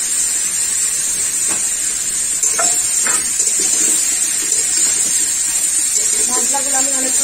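Eggplant and mixed vegetables fry in a pan for shukto, giving a steady close sizzling hiss, with a few soft scrapes and knocks as they are stirred.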